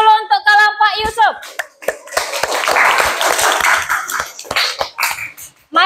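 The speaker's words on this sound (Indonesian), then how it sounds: "Tepuk tangan dulu untuk kelompok Yusuf." Classroom applause for a student group, a burst of many hands clapping from about two to five seconds, preceded by a voice and followed by scattered claps as talking resumes.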